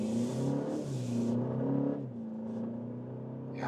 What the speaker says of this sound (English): Yeah, nice acceleration onto the motorway, or just normal road here.